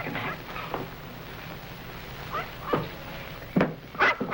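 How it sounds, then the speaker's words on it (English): A dog gives a few short, muffled barks and yips indoors, scattered across a quiet room with a louder pair of barks near the end. "What are you barking at now?"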